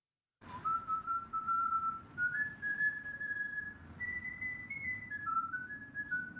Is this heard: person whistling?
yes